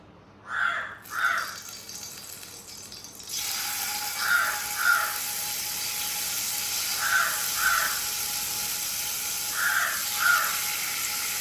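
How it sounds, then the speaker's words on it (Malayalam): Crows outside a Kerala home kitchen caw in paired calls, four bursts spread across the stretch, fairly clear but not very close, over a low steady background hiss with no one talking. "ഈ കാക്കൊക്കെ എന്താ അറിയില്ല, ഞാൻ വർത്താനം പറയുമ്പോൾ എപ്പോഴും ഉണ്ടാവും ഇങ്ങനെ ഒച്ചപ്പാട്"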